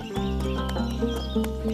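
A horse neighs and hooves clip-clop briefly, close and fairly loud, in a short burst lasting under two seconds.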